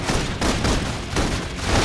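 Sustained suppressive fire in the game Love and Deepspace, a thick wall of rapid gunshots pulsing in waves with low booms underneath, loud and uninterrupted, no voices.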